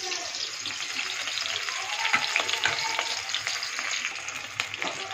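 Onions fry in a hot kadai with a steady, close, crackling sizzle that holds throughout, joined by a few scraping stirs.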